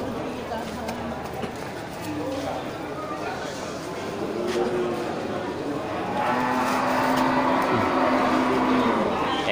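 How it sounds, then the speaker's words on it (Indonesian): Male water buffalo at a busy livestock market, with a low moo rising from the crowd noise near the end, amid constant chatter, movement and background bustle. "Ya, ini kerbau jantan,"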